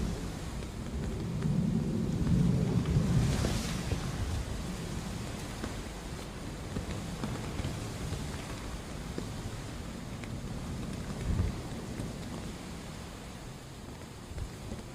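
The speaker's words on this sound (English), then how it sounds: "Hopefully this is only a light and passing shower. But it'll just keep the rain off me and the camera." Light passing rain shower at an airport, a steady hiss of falling rain with a heavier low rumble early on, continuous and close.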